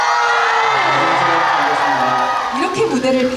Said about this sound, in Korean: 와, 박수!